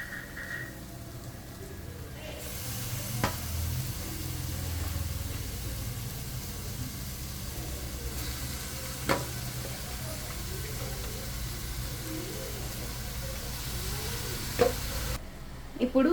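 Chicken stirred into sizzling, softened tomato masala in a pressure cooker for chicken pulao: a steady close fry hiss with a few sharp utensil knocks against the pot, no talking.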